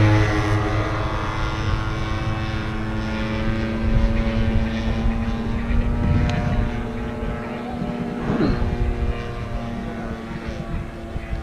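A radio-controlled aerobatic model airplane drones overhead at an airshow in Victoria, its propeller engine buzzing steadily with a shifting pitch over about eleven seconds, amid outdoor background noise and faint distant voices.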